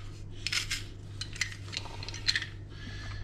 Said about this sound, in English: So I'm just going to put them through the garlic press.